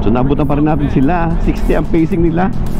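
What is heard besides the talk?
None of the usual background noises is heard.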